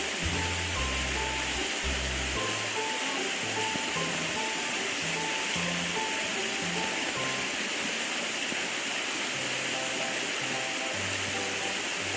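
Creek water flowing steadily, a broad continuous rushing wash heard close and fairly loud, with faint scattered tonal sounds over it and no talk.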